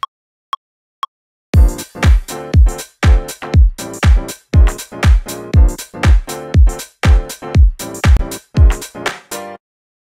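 Sampled chord taken from a track, triggered by one-finger MIDI notes into an original house chord progression: three faint clicks, then a run of punchy, evenly repeating stabs, loud and close, no talk.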